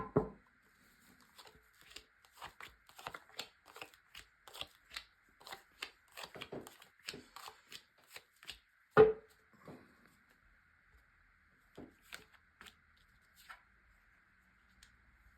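Tarot cards being shuffled in quick, soft riffling bursts and taps, close and fairly quiet, thinning out to occasional single flicks near the end.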